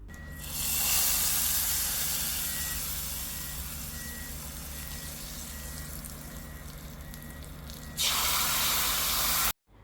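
A hot spiced tempering with chili powder is poured into a drumstick buttermilk curry, giving a loud, steady hissing sizzle that flares up again near the end before cutting off abruptly.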